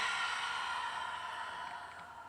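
A steady breathy exhale through the mouth during a bodyweight workout stretch, a soft broad rush of air that holds for about two seconds and tapers slightly, heard alone without talk.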